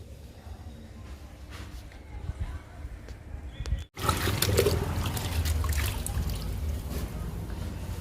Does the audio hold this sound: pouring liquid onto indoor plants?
yes